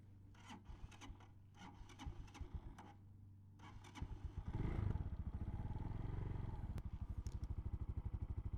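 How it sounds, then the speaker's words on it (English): After some clicking and fiddling with the choke, a CSC SG250 cafe racer motorcycle engine with a megaphone exhaust kicks over and settles into a loud, rapid, popping idle with a deep raspy exhaust note. "Got that megaphone exhaust."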